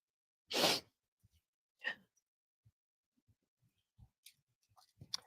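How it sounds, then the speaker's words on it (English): A single sharp, breathy sneeze bursts out close by, followed by quieter breaths, small clicks and soft mouth noises in a quiet room. "Oh, I feel like I have to sneeze."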